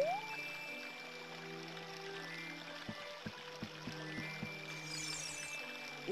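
Water sounds in the video game Zelda: Ocarina of Time, a soft steady underwater wash with a low hum, a few faint bubbling pops and a brief rising chime near the end.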